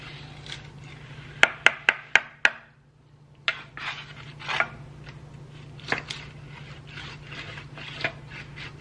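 A knife cutting through the skin of cooked garlic butter salmon, heard as a quick run of sharp taps followed by scraping and rasping strokes against a hard surface, close and clear, with no talking.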